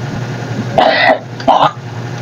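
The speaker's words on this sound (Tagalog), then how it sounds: "Medyo may inuubo." Someone nearby coughs twice, two short harsh bursts about half a second apart, loud and close over a quiet background hum.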